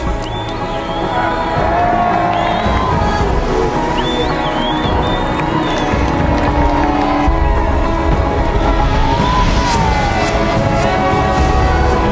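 A large outdoor crowd at Les Sables d'Olonne port cheers arriving Vendée Globe sailors, a steady loud roar of voices and whistles that holds for the whole stretch with no pause.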